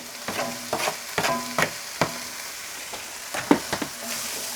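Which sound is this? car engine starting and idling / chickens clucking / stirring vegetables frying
stirring vegetables frying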